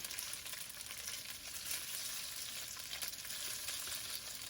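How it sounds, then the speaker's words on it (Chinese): Shredded pork stir-fries in hot oil in a wok, a steady, bright sizzle and crackle of frying, close and fairly soft, with no voices. "锅热以后，放入油，放入猪肉丝，这时要慢慢的打散。"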